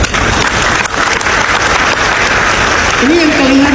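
Audience at an Islamic lecture by a preacher claps in a loud, sustained, close-sounding burst of applause, with a voice speaking briefly near the end.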